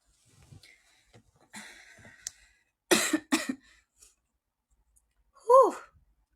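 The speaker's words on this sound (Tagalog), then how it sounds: "Pagod na ako umubo." A young woman coughing, with a soft sigh and throat clearing first, then two sharp close coughs and a final voiced exhale, in a quiet room.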